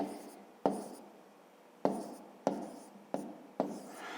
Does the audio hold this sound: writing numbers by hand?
yes